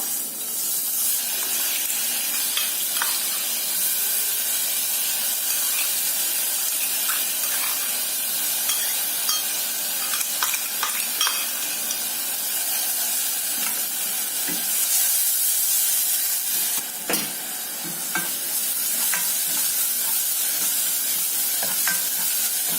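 Ground spice paste and curry leaves sizzle and hiss steadily in a hot pan, with occasional stirring scrapes and spitting bursts throughout, and no voices.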